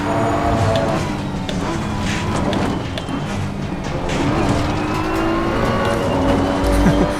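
Front-engined race car in Gran Turismo thumping over a curb and accelerating on, engine note rising under steady road and tire noise, loud and continuous throughout.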